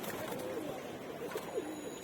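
Sky pigeons coo softly in a loft, a few low murmuring calls against a quiet, steady background.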